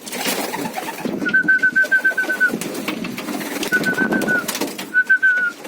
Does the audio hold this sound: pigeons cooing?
yes